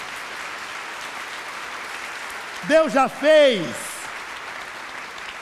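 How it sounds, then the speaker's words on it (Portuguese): Church congregation clapping for the Lord during a sermon, a broad steady wash of applause throughout, with a voice briefly speaking over it near the end. "E agora dá uma salva de palmas ao Senhor"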